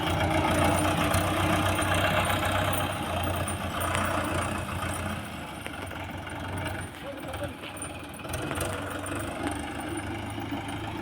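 John Deere tractor engine running in good condition, a steady low idling rumble heard close by with faint background noise and someone talking over it at times.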